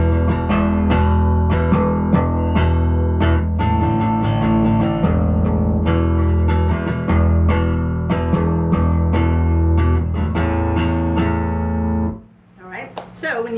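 A bass line is played with the right index finger digging into the strings. Punchy, deep notes run in a steady groove for about twelve seconds before stopping, and a brief bit of speech follows.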